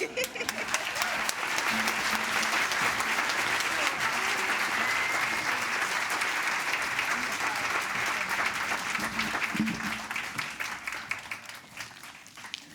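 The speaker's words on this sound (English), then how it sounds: "One more round of applause for those guys." An awards ceremony crowd claps loudly in a sustained, dense wave of applause, with faint voices and cheers mixed in, tapering off slightly toward the end.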